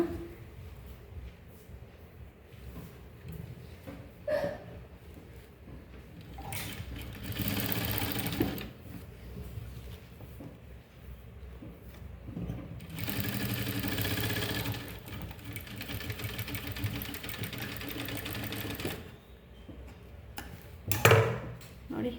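A sewing machine stitches a coat collar, running in several long stretches of steady whirring that swell and fade, with quieter gaps and handling noise between runs.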